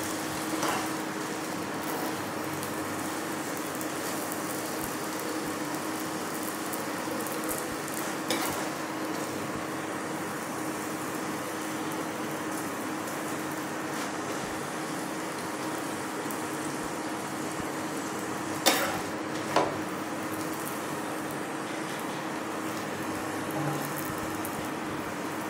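An onion paratha fries in a pan, a continuous, even sizzle that holds for about twenty-five seconds, with a few sharp clicks and scrapes of the pan, no talking.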